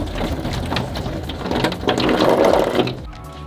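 A steady hiss of water spray pattering on a VW Crafter camper van roof like rain, dense and close, thinning out at the end.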